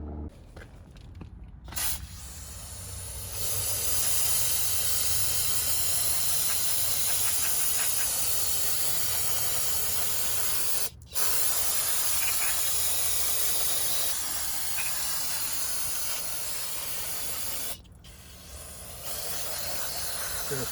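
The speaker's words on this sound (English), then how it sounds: "Gonna spray brake cleaner around the surface of the components we see right here, the rear drum brakes and the shoes" An aerosol can of brake cleaner sprays onto the rear drum brakes and shoes of a 2006-2011 Honda Civic in long, loud continuous hissing bursts, broken by brief pauses, very close.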